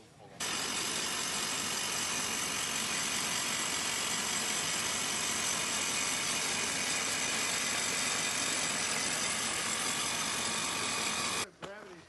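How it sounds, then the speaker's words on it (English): A rotary air blast drill rig bores into the ground with compressed air at a mining site near a former pit, giving a loud, steady, broadband roar that runs unbroken for most of the stretch before cutting off near the end. "So I'm standing right here next to the drill rig. It uses a compressed air to get down."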